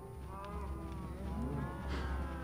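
Minecraft cows moo several times in low, drawn-out tones, fairly faint over a steady background hum, with no talking.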